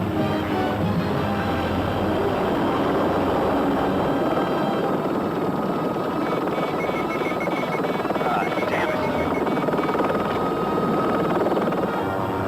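A helicopter does stunt flying over Los Angeles in the 1983 film Blue Thunder. Its steady, loud rotor thrum and engine whine go on without a break, with orchestral film music layered over the top.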